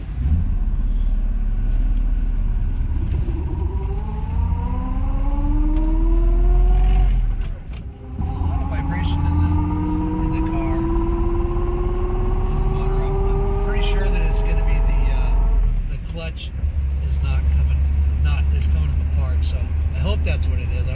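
A car engine runs while driving, its pitch rising in repeated climbing sweeps as it accelerates through gears, with a brief dip midway and a steady low rumble after, while a person talks over it.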